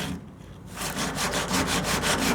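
Straight sandpaper scrubbing across a metal hood section of a 1929 Chrysler, a steady back-and-forth rasp that strengthens after a brief quieter start, with rhythmic strokes repeating close by.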